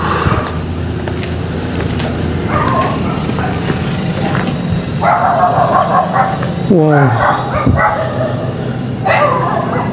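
A dog barks repeatedly from a lower floor of an abandoned, unfinished multi-storey mall, heard at a distance below over a speaking voice and steady background hiss.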